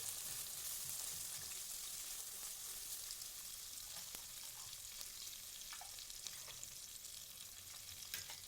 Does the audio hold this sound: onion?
yes